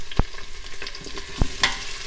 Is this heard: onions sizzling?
yes